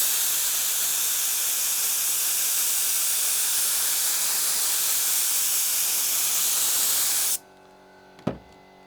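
A can of sprayable contact adhesive hisses in one long continuous burst for about seven seconds, then cuts off, followed by a single sharp knock.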